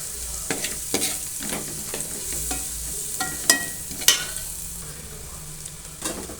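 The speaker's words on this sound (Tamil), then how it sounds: "ஏன்னா இது எண்ணெயில் போட்டு வதக்கினா தான் நமக்கு நல்லாயிருக்கும்." Mutton masala powder fries in oil for mutton curry, with a soft sizzle under frequent close spoon scrapes and taps against the pan, two louder knocks near the middle.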